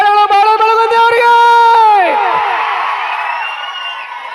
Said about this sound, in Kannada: ಒಂದ್ಸಾರಿ ಬರ್ಲಿ ಪ್ರೀತಿಯ ಚಪ್ಪಾಳೆಗಳು ಬಾಳು ಬೆಳಗುಂದಿಯವರಿಗೆ